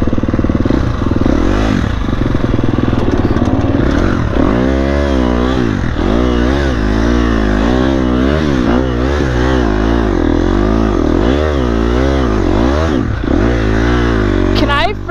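Dirt bike engine revving hard on a steep hill climb, loud and close throughout, with repeated throttle surges rising and falling in pitch and clattering over rough ground.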